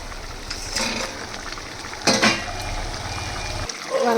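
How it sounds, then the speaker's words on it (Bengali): Mustard and poppy seed paste curry with fish bubbling in a pan on a gas stove, a steady low simmer with occasional clinks of a spoon or pan near the close. "এবার ঝোলটা কেমন, পোস্তটা কেমন ফুটে উঠেছে।"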